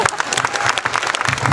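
Crowd applause at the opening of the 15th county harvest festival (dożynki) in Wiśniowa, Poland, a loud, steady burst of outdoor clapping lasting under two seconds.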